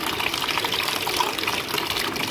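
Water is poured in a steady, hissing splash for an apple cider cleansing drink, close and continuous, with no talk over it.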